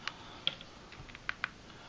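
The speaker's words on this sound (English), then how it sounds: "I'm going to hit menu, 3, 2, enter, and then I'm going to type these in" Keys pressed on a graphing calculator, a handful of sharp, light clicks spaced irregularly over two seconds, fairly faint and close, with no talking.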